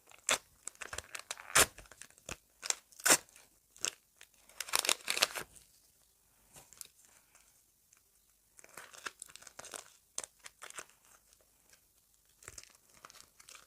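Crinkling and tearing of paper packaging in irregular bursts, close up, with quiet pauses between the rustling handling sounds.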